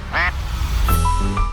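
A single duck, said to lay golden eggs, in Rodriguez, Rizal, gives a short burst of nasal quacks, then a few squeaky quack notes follow against steady background noise.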